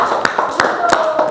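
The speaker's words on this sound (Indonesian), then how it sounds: "tepuk tangan dulu buat kelompok 1" A school class claps for a student group in a classroom lesson, close and loud, with a few distinct rhythmic claps standing out over a busy room and voices in the background.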